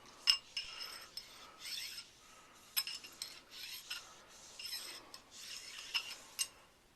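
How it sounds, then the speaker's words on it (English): Cleaning a Sig 556 rifle part by rubbing the inside, faint scraping and rasping strokes coming in short repeated bursts, close and quiet with no talking. "I just rub the inside of it on all the sides"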